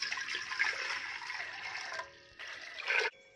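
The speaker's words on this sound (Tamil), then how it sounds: "இதுக்கு நம்ம பாத்திரத்துல 1 லிட்டர் அளவுக்கு தண்ணி ஆட் பண்ணிக்கலாம்" Water pours steadily in a rushing stream into a cooking pot for about two seconds, briefly quiets, then surges again before stopping abruptly; close by, no talking.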